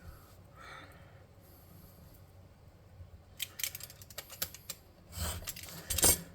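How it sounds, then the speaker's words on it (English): Crisp, quiet snips from cutters trimming material on a handmade futuristic battery prop for a tabletop RPG. Near, clicky cuts come in a quick irregular cluster after a hushed stretch of faint breathing and handling. "I'm going to snip this off straight so it looks good."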